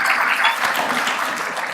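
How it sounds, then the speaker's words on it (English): Dense audience applause at the 29th annual Roberto Clemente gala, a steady wash of many hands clapping close and loud that holds evenly for under two seconds with no talk over it. "I would like to all of you to join me in welcoming with an immense applause, Valerie Montecalvo."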